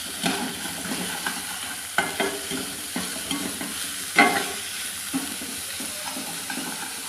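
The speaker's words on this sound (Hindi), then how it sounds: "अब हम इसमें चिकन ऐड करेंगे और इसको फ्राई कर लेंगे।" Chicken pieces fry in a pan for a creamy chicken sandwich filling, with a constant sizzle under regular spatula scrapes and knocks roughly once a second.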